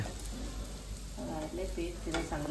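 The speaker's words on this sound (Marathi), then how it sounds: "मस्त आलूवड्या तळते बघा" Aloo vadi frying in hot oil: a steady close sizzle and crackle throughout, with a voice briefly heard over it.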